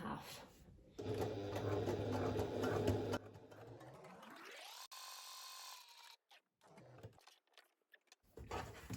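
A domestic sewing machine stitches fabric in steady motor-driven bursts at a 3.5 stitch length, running loud for a few seconds, then stopping and starting again in shorter runs.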